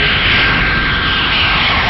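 F-94C Starfire jet aircraft taking off from a US Air Force base near Cape Cod, Massachusetts, its engine a loud, continuous broadband roar close by, steady and unbroken throughout.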